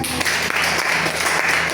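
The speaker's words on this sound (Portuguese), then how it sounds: "você pode aplaudir Jesus aí?" A church congregation applauding during a worship service, a steady wash of clapping that holds at an even, fairly loud level throughout, with no words spoken.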